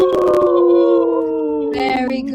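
A person imitates a wolf howl, a loud sustained close rising and falling howl that tails off, then breaks into a brief yelp.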